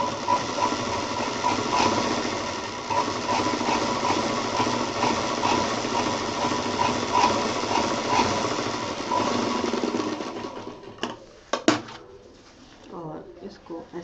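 A sewing machine runs steadily for about ten seconds, stitching plain cloth for a DIY thermos case, with a rapid rattling rhythm. A few clacks follow as it stops, and a voice speaks faintly near the end.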